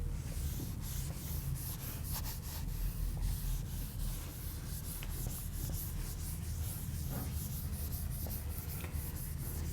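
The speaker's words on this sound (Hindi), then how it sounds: "मैं इसे रब कर रही हूं।" An eraser rubs chalk or marker writing off a board during a digital electronics lesson, giving a steady, close scrubbing hiss with faint repeated strokes and no talking.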